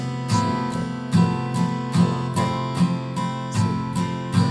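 An acoustic guitar strums a chord progression, with regular downstrokes ringing out in a steady, moderate rhythm, close and clear with no voice.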